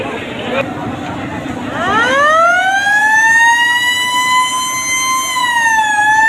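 Horn of the passenger launch MV Parabat 8 on an Eid service run from Hularhat to Bhandaria, a loud sustained multi-toned blast that starts about two seconds in and holds to the end over harbour background noise.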